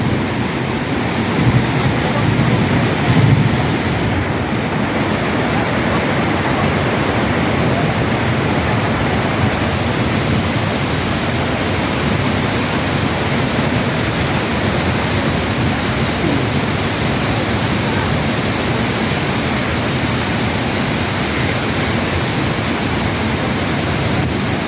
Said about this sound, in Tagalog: sakto ang punta namin dito sa Taytay Falls